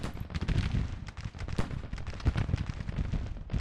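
Civil War artillery and musket fire in Grand Tactician: The Civil War, dense crackling volleys and booms rolling continuously at moderate loudness with no voices.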